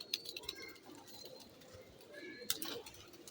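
Old, rare Sialkoti black-faced pigeons coo in a few low, throaty calls close by, with light rustling and fluttering between them.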